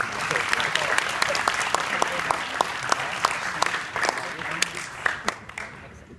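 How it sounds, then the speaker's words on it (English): Applause from a school graduation audience in Jakarta, dense steady clapping that rises and then thins toward the end, with some voices mixed in. "Please give them a warm round of applause"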